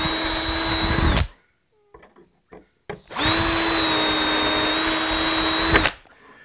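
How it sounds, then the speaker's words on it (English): A power drill fitted with a 6-inch aircraft bit whines loudly for about a second while boring holes in a wooden door, pauses briefly with a few faint clicks, then drills again for several seconds at a steady pitch. "Drill the 2 holes."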